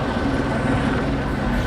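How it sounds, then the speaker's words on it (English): A helicopter hovers over a Los Angeles street on a Friday night during a police pursuit, producing a steady, dense low rumble that fills the short moment without a break. "why is there a helicopter?"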